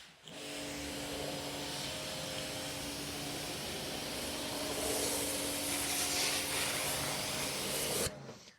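A water jet rinses snow foam off car paint, a steady broad hissing spray close to the microphone, swelling slightly midway and then cutting off abruptly near the end.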